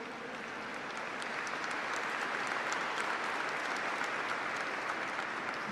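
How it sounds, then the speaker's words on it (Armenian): Sustained applause fills a church during a speech by Aram I, a dense even clapping from a large audience that holds steady throughout, with no speech over it. "Արամ առաջինի ելույթը ընդհատվում էր ծափահարություններով"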